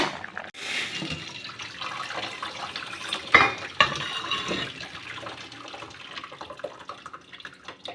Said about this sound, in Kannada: ಇವಾಗ ಇದನ್ನು ನೀರನ್ನೆಲ್ಲ ಬಸ್ಕೊಂಬಿಡೋಣ